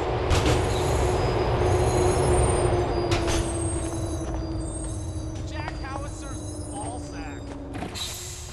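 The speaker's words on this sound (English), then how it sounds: "The train approaching is the J train, bound for Manhattan East West Station." A GTA IV subway train pulls into a station, wheels squealing with a long high screech over a loud rumbling roll, air-brake hiss and clatter near the end, with a person speaking over the noise.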